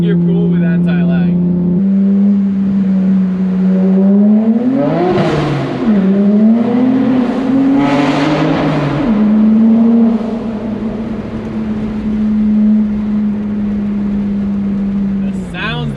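A 2009 BMW 135i with the N54 engine pulls hard in second gear with anti-lag, a loud close engine note rising in pitch, dipping briefly at shifts and climbing again, with bursts of crackle, before settling into a steady drone.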